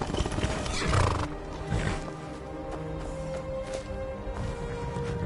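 A war horse in the Skyrim video game lets out a loud whinny at the start, followed by snorts and hoof clops over a dense game soundscape.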